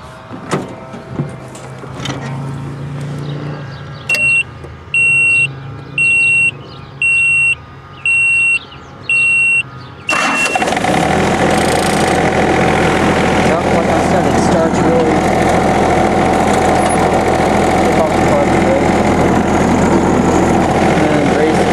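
A John Deere F1145 diesel mower, preceded by several evenly spaced warning beeps, cranks and fires at about ten seconds, then settles into a loud, steady, broadband engine roar that runs close and unbroken to the end.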